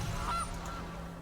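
A single short goose honk from the Gilded Goose card in the Magic: The Gathering video game, brief and fairly clear over a steady low background hum.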